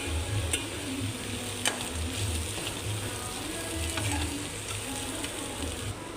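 A tempering of oil and spices with ground peanut powder frying in a pan, giving a steady low sizzle with soft stirring scrapes throughout, fairly faint, with no talking.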